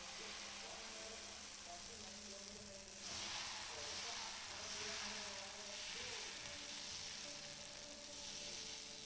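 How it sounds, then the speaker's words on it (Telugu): Steady sizzling of dosa batter frying on a hot pan for a spicy kaaram dosa, with a louder hiss swelling partway through as the batter spreads, close and continuous. "అందుకని చెప్పేసి దోసైతే వేస్తున్నానండి."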